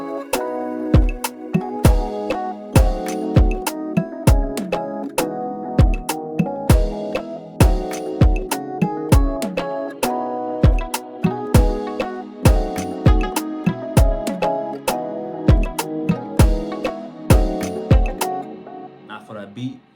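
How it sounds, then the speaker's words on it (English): Afrobeats drum pattern built in FL Studio, with congas, percussion hits and toms filling out a bouncy groove over kicks and snares, steady and loud throughout with no talking. "Now we add some congos and some perks and toms to fill out the drum bounce."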